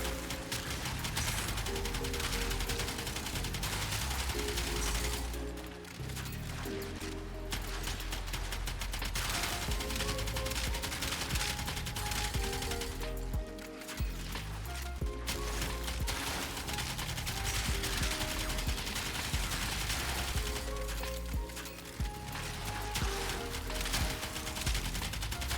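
Twin Kohmak shotgun pistols fired from the hip in the video game Warframe, a continuous loud barrage of rapid blasts that runs almost without a break, with only brief dips between bursts.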